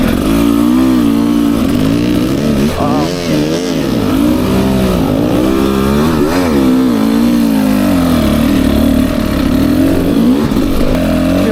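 A 2024 Beta 300 RR Race Edition motorcycle engine runs loud and close, its revs climbing and dropping in repeated swells before settling into a steady drone.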